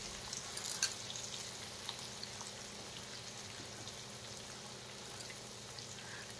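Fish frying in oil together with brinjal, tomato and onion, a steady close sizzle and crackle with faint pops running continuously throughout, no voices.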